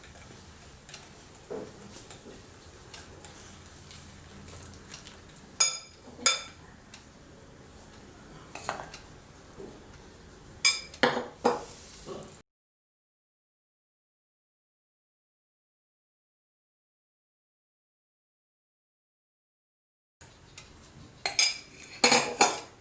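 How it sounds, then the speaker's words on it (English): A whisk stirs flour into a bowl for multigrain wheat masala biscuit dough, giving close, soft scraping with sharp metallic clinks every few seconds, broken by a stretch of total silence before the clinking starts again. "Now into this I am going to slowly add the flour in batches and start mixing."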